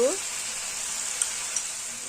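Black chickpeas (kala chana) stirred in a hot pan with salt and turmeric give off a steady, soft, close sizzle, broken by two faint scraping ticks.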